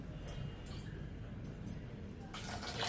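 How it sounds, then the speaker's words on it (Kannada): Water poured from a glass into a pressure cooker holding moong dal and sago for a quick payasam; a short splashing pour builds near the end over a steady low background hum. "ಒಂದು ಗ್ಲಾಸ್ ನೀರು ಹಾಕ್ತಾಯಿದ್ದೀನಿ"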